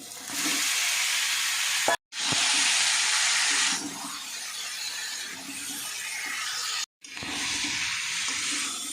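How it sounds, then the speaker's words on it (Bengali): Boiled jackfruit frying in spice masala in a pan, loud hissing sizzle in long bursts broken by two brief silent gaps, the hiss fading lower in the middle before surging again, with no talk. "সবজিটা সুন্দর মতন ভাজিয়ে নিছি মশলা দিয়ে"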